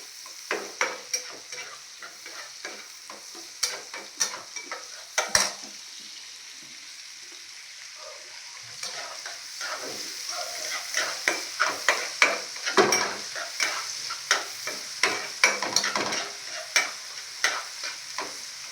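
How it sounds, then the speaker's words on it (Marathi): Onion frying in a pan for a dry sukat chutney, a steady sizzle underneath while a utensil stirs and scrapes in irregular clinking strokes, sparse at first and then more frequent, close up with no talk. "आणि आता आपण टाकणार आहे कांदा कांदा चांगला व्यवस्थित भाजून घ्यायचा"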